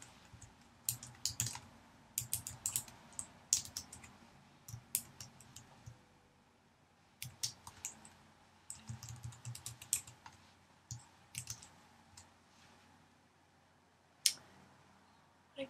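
Computer keyboard typing JavaScript code, close and fairly quiet, coming in irregular bursts of rapid key clicks separated by short pauses, with no talking.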